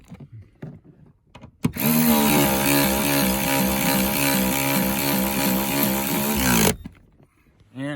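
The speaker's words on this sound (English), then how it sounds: "Now I'm gonna run those down until they stop with the electric ratchet." Loud, close whir of an electric ratchet running down big Torx bolts holding a car seat, lasting about five seconds in one steady burst, with faint handling noises before and after.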